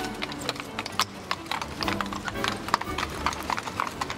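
Lipizzaner horses, an Arabian and Spanish cross, clip-clop in a quick, uneven patter of hoof strikes on hard ground, fairly close, with a brief whinny-like tone and faint background voices.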